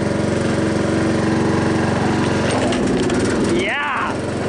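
Tractor engine running loud and close, droning steadily before its pitch and note change as it shifts into a higher gear, with people talking over it.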